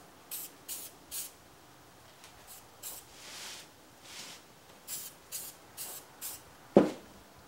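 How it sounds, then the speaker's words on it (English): Short bursts of spray paint hiss onto a new car part for a DB project, about a dozen quick spurts in an uneven rhythm, close and fairly quiet, followed by a sharp knock near the end. "let's put some paint on our new piece"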